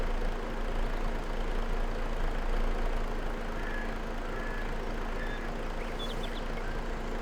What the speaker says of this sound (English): it was actually the engine to the truck